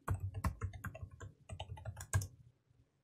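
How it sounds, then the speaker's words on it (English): Rapid typing of a password on a computer keyboard, a quick run of close, crisp key clicks with brief pauses that stops about half a second before the end, no voices. "I'll type in my super secret password."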